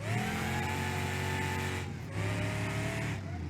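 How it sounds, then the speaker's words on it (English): A supercharged muscle car engine in the video game BeamNG.drive roars at high revs with a thin, steady supercharger whine layered over it, loud and continuous with a brief dip midway. "The supercharger makes a whining noise."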